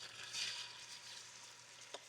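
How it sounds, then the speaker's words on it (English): Caribbean fried rice sizzles in a pot, a soft steady crackling hiss heard up close and fairly quiet, with a single small tap near the end and no talking. "And hear that sizzle."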